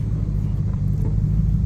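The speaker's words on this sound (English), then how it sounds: "So there's one car that just rolled in." Car rolling slowly into a lot, a steady low engine rumble close by, continuous and even with no clear revving.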